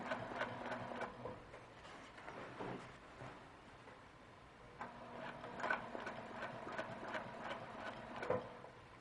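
A sewing machine stitches along a ruler line on a quilt block, its rapid ticking needle rhythm running steadily, pausing briefly midway and then continuing, moderately quiet with no voices.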